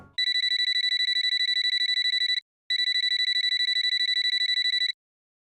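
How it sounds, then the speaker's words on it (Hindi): A telephone rings for an incoming call with a rapid electronic trill in two long bursts separated by a short pause, clear and alone with no talking. "प्रिंसिपल मैडम का फोन"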